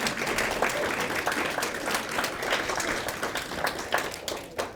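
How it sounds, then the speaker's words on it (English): Audience claps for Sylvia and her team at a talk on decluttering and organizing, a fairly quiet, sustained round of scattered handclaps from a roomful of people, steady for several seconds. "We can give them a round of applause for all the work that they do."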